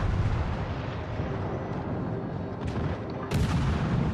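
Warship guns boom in World of Warships Legends, a dense continuous rumble of cannon fire with sharper blasts standing out near the end, no voices.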